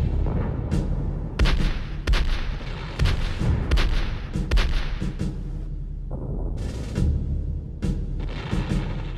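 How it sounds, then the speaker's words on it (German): The medieval cannon Faule Grete and other artillery fire in a siege scene, a series of heavy booms at irregular intervals over a constant low rumble. "Nur alle 3 Stunden kann die Faule Grete feuern"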